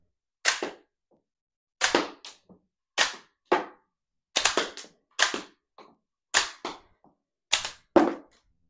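Sharp toy cap gun pops from Gold Eagle Deadpool dual pistols, about a dozen loud cracks in quick pairs and bursts spread across the stretch, separated by short silences.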